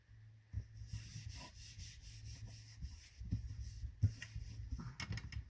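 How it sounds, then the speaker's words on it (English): Glued paper pressed and rubbed down onto a Christmas card, producing soft rhythmic brushing and rubbing strokes close up, quiet and repeated with a few firmer presses. "Gonna glue this down."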